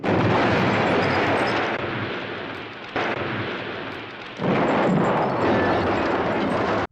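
A loud, sustained explosive roar as a house blows up in a film, with rumbling debris, surging again partway through and rolling on to the end.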